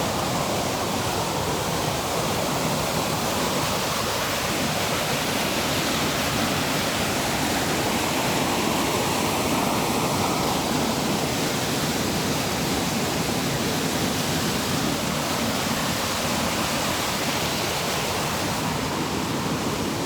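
Stream water rushing steadily around an island between two streams, a dense continuous wash of flowing water, close and even throughout with no voices.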